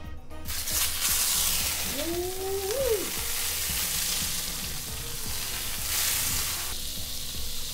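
Vermicelli fries in margarine in a pot with a steady, close sizzle and occasional stirring scrapes, continuous throughout with no talk.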